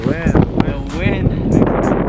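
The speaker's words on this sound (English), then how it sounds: "Yeah, the wind is crazy." Strong wind gusting against the microphone high on Half Dome, a steady roar that rises and falls under excited voices talking throughout.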